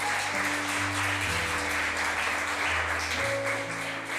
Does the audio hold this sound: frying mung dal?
no